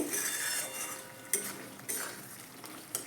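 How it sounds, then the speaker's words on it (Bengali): A spatula stirs a yogurt pointed gourd curry in a pan after salt and garam masala go in, giving three distinct metallic scrapes and knocks against the pan over a faint sizzle. "খুলে একটু নেড়ে দেব আর দিয়ে দেব লবণ আর একটু গরম মশলার গুঁড়ো দিয়ে একসঙ্গে একটু ভালো করে আবার মিশিয়ে নেব"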